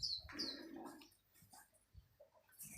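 Sparrows at their nest on a house on a hot day: a few faint, quick high chirps near the start, then quiet with soft scattered background sounds.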